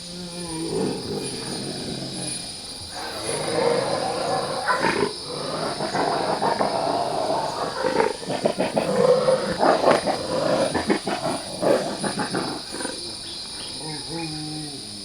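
Wild bears fight over a rock perch in an Asian jungle, giving deep growls and roars in repeated bursts over a steady background of insect buzz.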